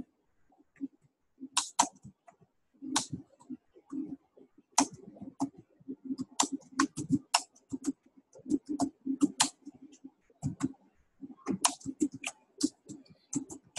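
Typing on a computer keyboard while writing out a long paragraph, with bursts of close, crisp key clicks in uneven runs and brief pauses, alone without talk.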